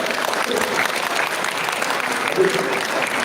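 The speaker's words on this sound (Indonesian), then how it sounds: "Tepuk tangan sahabat." Seminar audience breaking into applause, a thick continuous wash of many hands clapping at once, steady and fairly loud throughout the short stretch.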